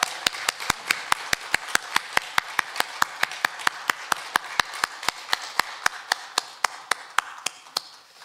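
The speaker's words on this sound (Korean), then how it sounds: "힘찬 박수로 영광 돌립니다" A church congregation at Sunday worship keeps up a steady, even run of sharp claps, close and crisp, repeating rhythmically for the whole stretch without voices.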